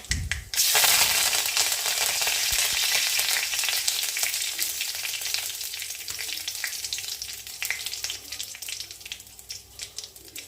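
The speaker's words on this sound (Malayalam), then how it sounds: "ഇനി ഇതിലേക്ക് 2 തണ്ട് വേപ്പില ഇലകൾ പറിച്ചെടുത്ത് ഇട്ട് കൊടുക്കുക." Curry leaves hitting hot oil with popped mustard seeds set off a loud, sudden burst of crackling sizzle that stays strong and slowly eases over about ten seconds.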